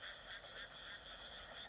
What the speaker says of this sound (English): you can hear a grand chorus of frogs at night